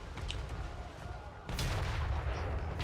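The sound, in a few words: Grand Cannon firing shots in a Total War video game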